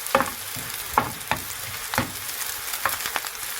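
A smash burger sizzles in a pan after a splash of water, with steady crackling fry noise punctuated by several sharp scraping stirs at irregular intervals, close and moderately loud.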